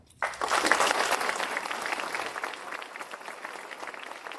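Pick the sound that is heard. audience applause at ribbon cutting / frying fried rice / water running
audience applause at ribbon cutting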